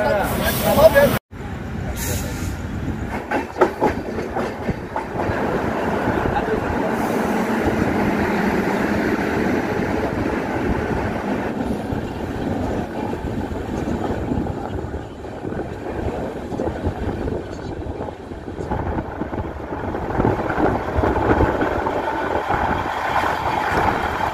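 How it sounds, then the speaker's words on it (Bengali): Steady rumble of a crowded passenger train heard from a window seat inside a general compartment, with rhythmic wheel clatter and rushing wind noise throughout. "আর ট্রেনের জেনারেল কম্পার্টমেন্টে আজকে আমরা জার্নি করছি"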